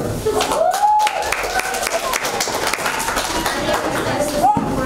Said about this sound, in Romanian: să îi aplaudăm așa mai puternic